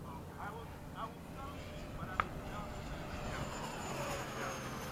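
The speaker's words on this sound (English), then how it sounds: "there is a business jet flying over. Looked like a Cessna Citation." A Cessna Citation business jet flies overhead, heard as a steady, distant roar with no clear peak, mixed with background noise.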